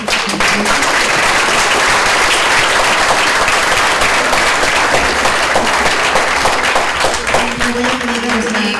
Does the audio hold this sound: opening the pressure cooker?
no